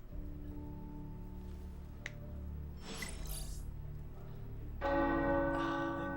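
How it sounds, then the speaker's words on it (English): Video game tower bells ring out faintly over a low background hum, with a clear, bright tolling near the end that sustains and rings on. "The tower bells are ringing."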